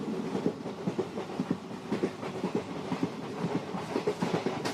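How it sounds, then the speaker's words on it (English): A moving train rolls along the rails, a steady close rumble carrying a rhythmic clickety-clack of wheels over track joints as it picks up speed, with no voices. "as the speed of the train picks up"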